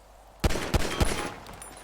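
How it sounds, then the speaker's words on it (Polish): An explosion in GTA 5 bursts out suddenly after a quiet moment, followed by two more sharp blasts in quick succession and a fading crackle, loud and close. "O dobra, teraz wybuchło."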